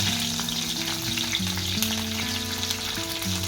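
Urad dal, cumin seeds and curry leaves frying in hot oil give a steady, close sizzle with light crackle, alongside a constant low tonal hum in the background.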